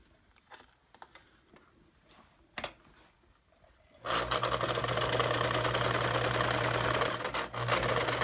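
A sewing machine stitches fabric, starting after a few faint clicks and handling noises and then running steadily with a fast, loud mechanical whirr close by until the end.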